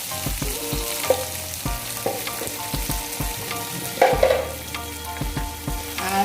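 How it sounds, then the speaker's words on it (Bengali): Beef liver with a cumin, green chili and turmeric spice paste being stirred and fried in a pan, Kashmiri-style bhuna: loud close sizzling under repeated scraping and knocking strokes of the spoon, with a sharper clatter midway. "এভাবে নাড়তে থাকি।"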